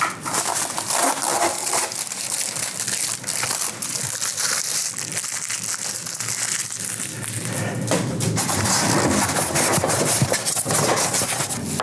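Tape being pulled and peeled off the plastic packaging of a NewAir countertop clear ice machine, heard up close as a continuous loud crinkling and tearing rustle.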